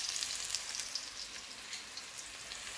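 Bamboo shoots fry in a pan with a soft, continuous crackling sizzle, faint and even throughout, with no voices.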